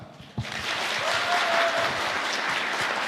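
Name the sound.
congregation applause welcoming pastor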